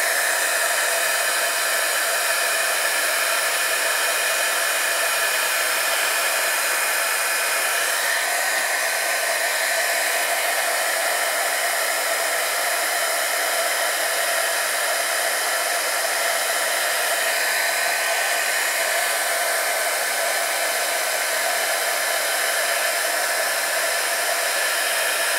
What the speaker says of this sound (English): you can stop and start your heat tool just to finish the job